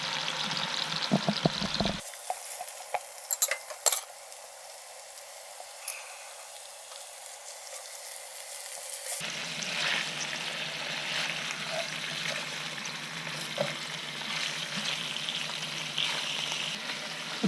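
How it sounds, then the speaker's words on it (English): A pork chop and braciole sizzle and fry in a pan, a steady close hiss that drops back briefly, then swells again into continuous crackling, with no talking. "Listen to that sizzle."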